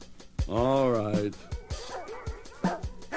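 A voice actor in a 1984 audio drama imitates a dog, giving a long, wavering, drawn-out vocal bark-whine followed by shorter yips, close and loud, with other voices speaking around it.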